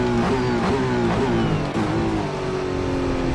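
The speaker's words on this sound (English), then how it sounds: "But the car sounds good." A Le Mans Hypercar race car engine in Assetto Corsa revs steadily with rising and falling pitch, loud and continuous throughout, with no voices.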